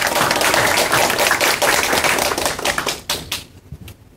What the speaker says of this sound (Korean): 훌륭한 발표를 해주신 주영찬 위원님께 다시 한번 큰 박수 부탁드립니다